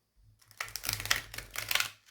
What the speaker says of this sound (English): Let me see if I can shuffle this deck.